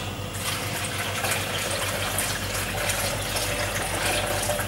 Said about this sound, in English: let me just rinse that out